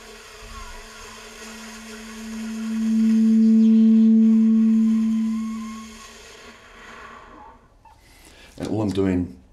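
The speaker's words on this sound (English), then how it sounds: "we blow air into the saxophone, and at a certain point, a tone emerges" Saxophone breath noise slowly turning into a soft sustained tone that swells and then fades, followed by a short burst of talk at the end.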